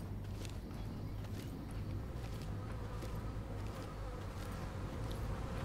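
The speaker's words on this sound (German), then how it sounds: "Oh, hier Bienen." Swarm of bees buzzing in a tactical shooter video game, a steady dense drone with a low hum running continuously and evenly throughout, with no voices over it.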